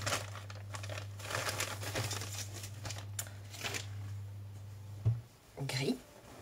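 Scissors crinkle and snip through the plastic wrapping of a parcel holding a T-shirt, a close, steady rustle over a low hum, ending in a couple of louder crackles.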